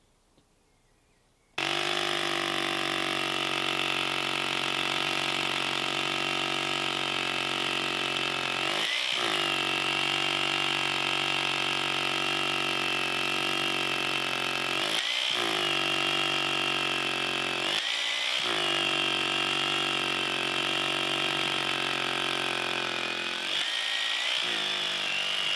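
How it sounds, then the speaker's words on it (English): A power drill boring holes in FastForm plywood, a loud steady whine running almost continuously with three or four brief stops where the drill pauses between holes, close by with no talk. "So now we'll move on to drilling holes."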